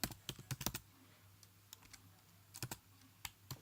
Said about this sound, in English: just type in Chrome